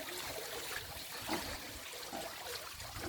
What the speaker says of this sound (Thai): จะได้ยินเสียงนะว่าเสียงน้ำตกมัน มันจะดังไปนิดนึงนะ